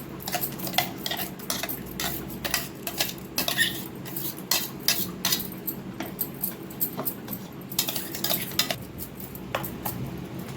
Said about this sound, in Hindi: और हमने ले लिया एक मिक्सी बाउल लिया है, इसी में इसको हम ट्रांसफर कर लेते हैं।